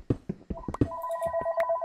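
Telephone ringing in the background of a Minecraft play session: a few sharp knocks at first, then a sustained electronic ringtone with steady tonal notes and a brief higher chirp, moderately loud and without talk over it.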